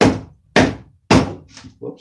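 A workpiece is knocked onto the centers of a spring pole lathe: three sharp, loud thunks in a steady rhythm, then two softer knocks, all close by.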